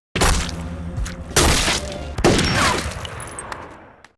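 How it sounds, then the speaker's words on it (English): Several sharp gunshot-like bangs ring out with long echoing tails, a few seconds of loud, reverberant firing as if shots are traded. "Gil drew his weapon and fired a shot"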